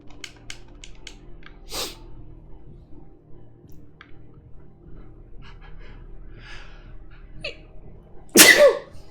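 A character sneezes sharply in the video game Mouthwashing, one loud burst close by near the end after a quiet stretch with faint breaths and small sounds.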